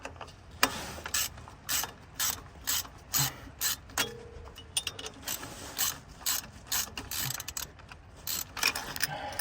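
Removing a pilot bearing bushing from a Ford 7.3 engine, a series of rhythmic ratcheting clicks in short bursts, close and fairly faint, repeating about once a second.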